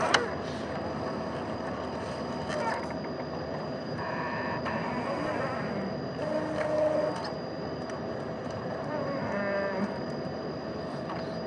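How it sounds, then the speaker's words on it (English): An Epson DTF printer runs steadily up close, a continuous mechanical drone with shifting whirs and low groaning moans as the print head moves and reloads. "that's the noise you hear from the printer"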